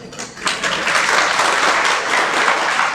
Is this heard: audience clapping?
yes